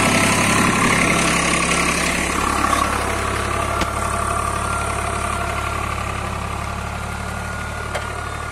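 A Swaraj 744 FE tractor fitted with a cultivator idles steadily, its low engine hum and mid-range rumble constant and close, with a faint vibration and an occasional light click over the drone.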